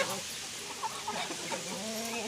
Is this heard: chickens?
yes